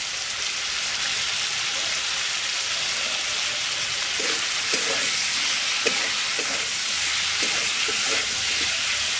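Green chillies and chopped onion fry in a pan with a steady, close sizzle that runs throughout, with a few soft stirring scrapes toward the end.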